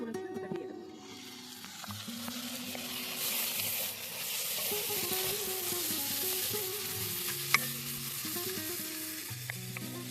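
Ginger, garlic and cumin paste frying with onions in a pan makes a soft, steady sizzle and crackle, fairly close, with a low background hum.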